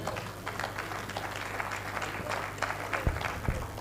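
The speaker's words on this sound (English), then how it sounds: "I think you will give me a round of applause" Steady crowd applause, a dense patter of many hands clapping at moderate volume throughout, with a low hum underneath.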